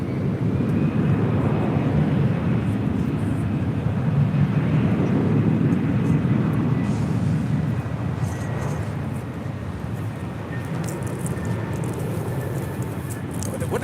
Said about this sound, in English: That is Turkish Airlines 179 coming in from Istanbul on a 787-9 Dreamliner.